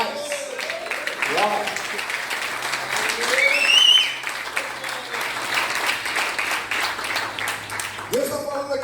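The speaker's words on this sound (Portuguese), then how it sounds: "Aplauda o Senhor pela palavra dele." A church congregation applauds during a sermon, a steady wash of clapping running the whole time beneath voices that rise over it, swelling briefly near the middle.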